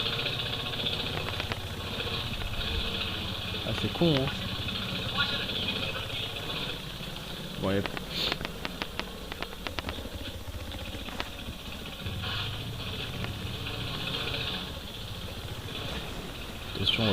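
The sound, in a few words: motorcycle engine in video game Battlefield 4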